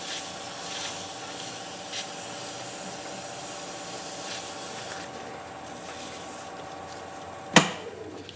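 Turned wooden shot glass being sanded on the lathe with very fine grit, a continuous soft hissing rub that fades toward the end, closed by a single sharp tap.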